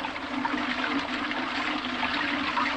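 A toilet flushes with a steady rushing gurgle of water, close and continuous, with no talking.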